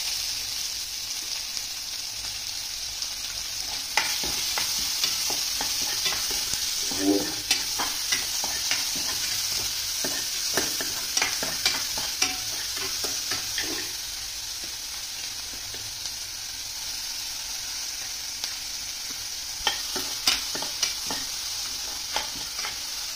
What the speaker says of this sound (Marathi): कांदा असा छान लालसर होऊ द्यायचा आहे.